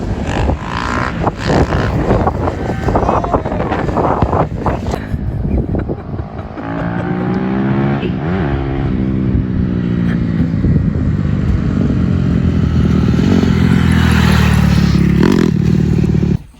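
Motorcycle engine revving loudly and continuously at close range, rising and falling in pitch with rattling clatter, in a backyard setting in Maine.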